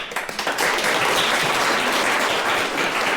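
Audience at a university awards ceremony breaking into applause, starting with a few scattered claps that quickly swell into steady, full clapping from many hands that continues at an even level to the end.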